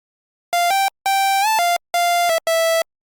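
A bright, buzzy synthesizer lead plays a short phrase of sustained notes separated by brief gaps, with one note sliding upward.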